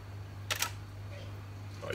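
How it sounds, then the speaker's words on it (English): A DSLR camera fires its shutter at a slow 1/25 second, giving a soft two-part mechanical click with a short pause between, close by over a steady low hum. "Rather than that crisp shutter sound, it takes a second to think about it."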